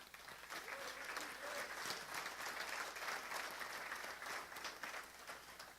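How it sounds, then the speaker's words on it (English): Conference audience at a keynote giving themselves a round of applause, sustained many-handed clapping at an even level, somewhat distant in a large hall, with faint voices beneath. "Please give yourself a round of applause."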